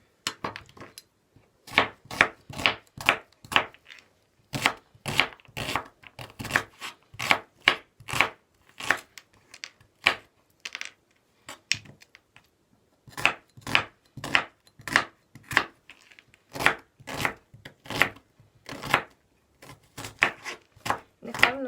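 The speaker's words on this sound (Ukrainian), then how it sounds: "І починаємо кришити цибульку. Цибульку кришимо звичайним дрібненьким кубиком." Rapid knife chops dicing an onion into small cubes on a cutting board, crisp repeated taps in quick bursts with short pauses between runs, close and clear.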